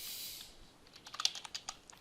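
Typing on a computer keyboard: a short run of quiet, close key clicks, unevenly spaced, with no voices.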